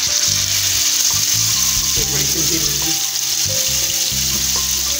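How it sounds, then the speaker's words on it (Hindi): Chicken pieces frying in oil in a grill pan, a steady close sizzle with bursts of crackle and some clatter throughout. "और जो ये हमने अब पीसेस थे हमारे चिकन के, वो अब इसमें मैं रख दूँगी फ्राई होने के लिए।"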